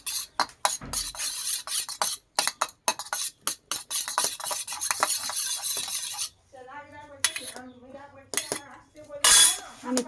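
Eggs and salt being mixed in a bowl, with rapid irregular scraping and clinking of a utensil against the bowl, bursts separated by short pauses, close and fairly loud, with a brief voice near the end.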